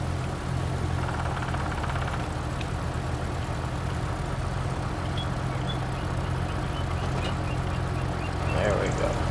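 A small tractor engine in the Farmville 25 video game runs steadily throughout, a low continuous idling rumble at an even level.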